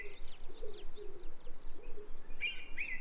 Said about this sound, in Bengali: আমার একদম কাছে পাখিগুলো